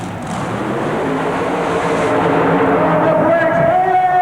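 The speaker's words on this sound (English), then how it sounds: "a good-looking run for the Red Heat dragster and Ewington, Ohio's Melvin Brown" Red Heat dragster driven by Melvin Brown of Ewington, Ohio makes a straight super modified mud racing run, its loud engine roaring steadily and climbing in pitch as it pulls away, with crowd noise beneath.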